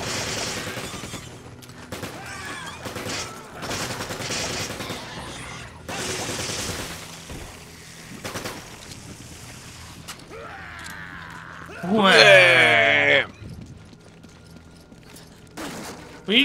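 Rifle shots from Resident Evil 5 crack out as several sharp, irregularly spaced bursts, with a louder creaking, voice-like squeal near the end.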